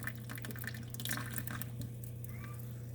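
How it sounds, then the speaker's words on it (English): Water trickles slowly and steadily from a squeeze pump into an aquarium jug for a nano cube tank, a soft continuous running sound with faint drips, close and alone over a low hum. "you've got the squeeze pump right here, and you slowly squeeze in"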